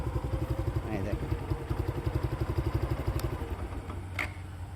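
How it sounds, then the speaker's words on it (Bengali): A second-hand Suzuki Gixxer Monotone motorcycle idles with a steady, rapid putter from the exhaust, close by, while someone talks over it. "একজোসের সাউন্ডটা দেখেন আমি কত স্মুথ সাউন্ড দেখেন"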